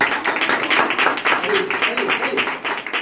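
A congregation claps their hands at a Hindi Sunday church service: fast, steady rhythmic clapping fills the room, with voices mixed in.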